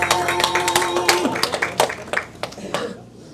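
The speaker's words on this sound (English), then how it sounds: "give yourself a nice round of applause" At a veterans' medal ceremony, an audience gives a round of applause after a patriotic song, with scattered, uneven claps that thin out and fade toward silence while voices murmur underneath.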